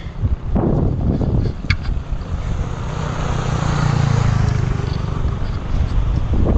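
Cold wind rushes past on a high mountain road in Ladakh, a constant loud roar and buffeting against the microphone, with a faint engine drone underneath.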